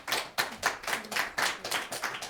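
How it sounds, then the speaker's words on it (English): Scattered hands clap at a school committee meeting, a quick run of sharp, separate claps from a few people, fairly faint, in a steady uneven rhythm with no talking. "No clapping, please."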